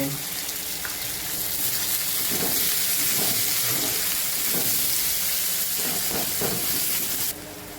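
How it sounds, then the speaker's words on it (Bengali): Onions frying with a little sugar and salt in a pan, a steady broadband sizzle running throughout with occasional louder bursts as the pan is stirred, close and continuous, no talk. "এবারে পেঁয়াজটাকে দিয়ে একটু নাড়িয়ে নিতে হবে একটু চিনি দিয়ে নুন দিয়ে দিতে হবে"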